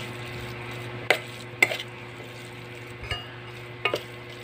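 Seasoned meat filling for Japanese siomai, mixed with spring onion, is stirred in a bowl: a few soft, scattered scraping knocks spaced seconds apart over a quiet steady background hum.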